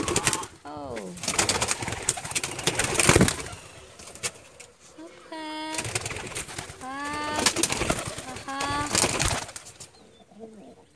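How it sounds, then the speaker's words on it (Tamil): Silver pigeons in a man-made shelter coo repeatedly in rolling, throaty bursts, close and fairly loud, with noisy rustling and flapping between calls and a person talking intermittently underneath. "வெள்ளி புறா"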